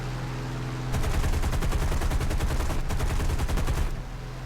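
Machine guns on a P-36 fighter aircraft fire in War Thunder, a long rapid rattling burst that breaks off briefly and resumes before stopping, over steady engine drone.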